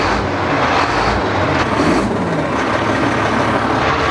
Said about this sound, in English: Just want to rev it up, really.